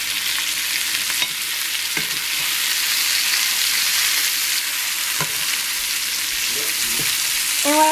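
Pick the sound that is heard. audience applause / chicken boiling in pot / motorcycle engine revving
chicken boiling in pot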